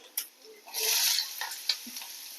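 Onions and carrots sautéing in a pan with ginger, garlic and fennel seeds for a chapati roll masala: a close, soft sizzle broken by clattering stirring scrapes, with a louder burst of frying in the middle.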